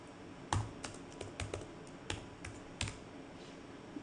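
Computer keyboard typing while working in PowerShell ISE, quiet and close, with a loose rhythm of separate key clicks and a few sharper presses.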